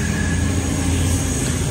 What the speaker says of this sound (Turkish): Tren gidiyor.